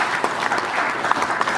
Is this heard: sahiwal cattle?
no